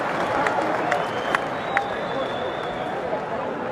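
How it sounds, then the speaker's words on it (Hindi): Rally crowd clapping, a steady dense wash of applause with a few sharper claps standing out, broad crowd noise underneath and no clear talk on top. "ठोको ठोको, ताली ठोको।"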